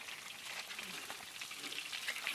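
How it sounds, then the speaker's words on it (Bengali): Pieces of katla fish fry in oil at an outdoor village cooking site, giving a faint, continuous crackling sizzle with small irregular pops. "আর এদিকে মাছ ভাজা চলছে, আর এক খোলা হবে, তাহলে মাছ ভাজা কমপ্লিট।"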